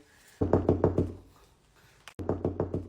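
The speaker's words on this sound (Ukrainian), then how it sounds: "Ти що не чуєш, що стукають?" Knocking on a door in a home, two bursts of rapid, loud knocks, about five raps each, separated by a short quiet gap, with no talking.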